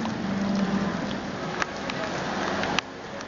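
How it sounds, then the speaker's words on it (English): Steady rain patters on a car while driving in Ireland, forming a constant hiss over the low road and engine rumble, with a couple of sharp knocks in the cabin. "Here comes the rain."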